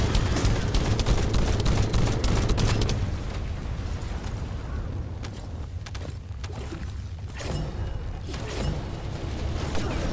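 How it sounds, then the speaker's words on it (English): Explosive ability blasts from Reg's Reverse Fate in The First Descendant, a dense, sustained roar of overlapping booms and crackling debris with mechanical clatter, strongest early on and then settling into a rumbling, busy battle din. "The Reg's Reverse Fate explosions."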